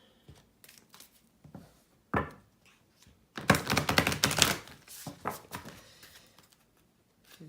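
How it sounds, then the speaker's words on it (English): Tarot cards are shuffled by hand in close, crisp bursts of riffling and flicking, with scattered taps before a dense run of rapid snapping card edges that tapers off into softer handling. "We'll shuffle again."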